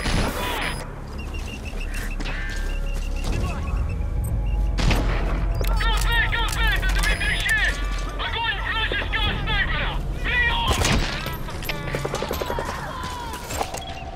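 Gunfire in Metal Gear Solid V, scattered bursts and booms under a radio-style voice and game chatter, with clattering hoof-like beats and electronic tones throughout.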